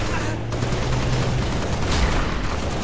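Dense, continuous gunfire and explosions in the shooter game Halo Reach, a loud sustained barrage with no pauses, with faint voices buried underneath.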